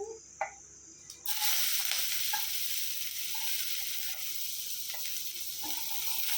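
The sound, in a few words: garlic and ginger sizzling in sunflower oil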